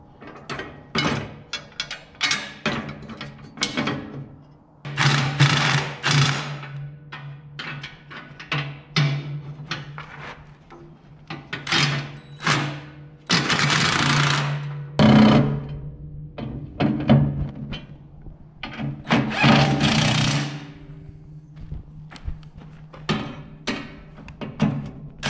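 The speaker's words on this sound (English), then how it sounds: "I'm gonna have to loosen up these bolts again." Bolts being loosened on a new garden rototiller: repeated ratcheting clicks, metallic clanks and thumps of tools on the machine, close and fairly loud, with no talk.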